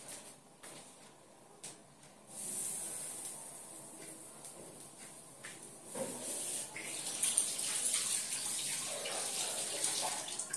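Water poured and splashed onto naan cooking on a hot tawa for butter garlic naan, a hissing, gushing wash that rises after a couple of seconds and stays steady and fairly loud to the end, with no talking.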